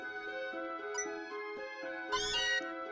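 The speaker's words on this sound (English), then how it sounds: "there's the Meowth. There's their Meowth." Meowth, the cat Pokémon, lets out its cry in Pokémon Let's Go Pikachu & Eevee at Mt. Moon, a short bright meow burst rising over steady game music with chiming tones.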